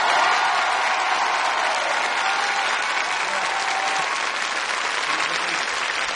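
Studio audience on a French television show applauding comedian Jean-Marie Bigard's entrance, loud continuous dense clapping sustained throughout.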